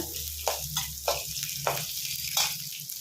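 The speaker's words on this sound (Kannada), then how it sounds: "ಚೆನ್ನಾಗಿ ಫ್ರೈ ಮಾಡಬೇಕು ಕೆಂಪುಗಾಗ್ತಾ ಇದೆ" Onions sizzle steadily in a pan as they fry to a reddish brown for a hotel-style keema sambar, with a constant hiss broken by about five sharp scraping stirs of the spoon.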